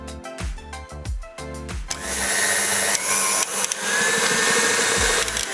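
An electric mixer beats cake batter on high for lamington fingers, starting with a few short bursts and then settling into a steady, loud whirring drone.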